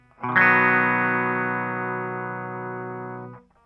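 Electric guitar on a clean tone through the bridge pickup, playing a song part: a single chord struck once and left to ring, sustaining steadily and fading slightly before being cut off.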